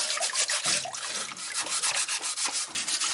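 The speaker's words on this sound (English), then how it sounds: "Just got a scouring pad here." Scouring pad scrubbed back and forth over the metal of a Redcoat musket, a close, steady rasping rub with quick repeated strokes and no talk.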